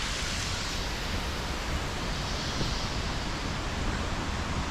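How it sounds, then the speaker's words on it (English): A rainforest waterfall along a hiking trail, a steady broadband roar of falling water that stays constant and close throughout, with no voices. "It's another waterfall"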